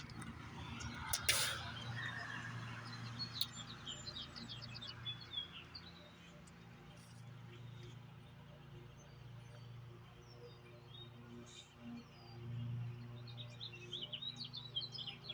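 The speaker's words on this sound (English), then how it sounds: "if you could hear birds, let me know" Birds chirping outdoors, scattered tweets and short calls at moderate distance over a steady low hum, busier at the start and again toward the end.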